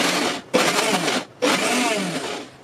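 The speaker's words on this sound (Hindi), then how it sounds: "वापस इसे पल्स बटन दबा के ही ग्राइंड करेंगे।" A mixer grinder grinding soaked lentils whirs loudly in two short pulses, a brief pause between the bursts of coarse, gritty grinding.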